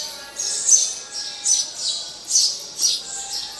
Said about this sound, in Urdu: مسجد میں پرندے بھی موجود ہیں اور پرندوں کی آواز آپ سن رہے ہوں گے